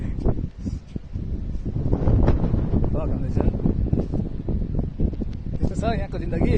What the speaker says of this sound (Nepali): पुरै हावा चल्दैछ